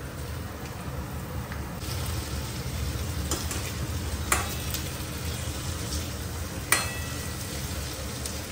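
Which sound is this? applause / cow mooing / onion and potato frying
onion and potato frying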